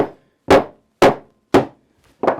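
Four sharp, hard knocks of a hammer on a hollow plastic duck decoy with a flocked head, evenly spaced about half a second apart, close and fairly loud with silence between.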